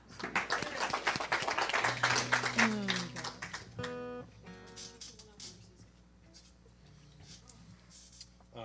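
A congregation at a Sunday community service claps in a dense burst of applause for a few seconds, then it thins out as sustained musical instrument tones begin.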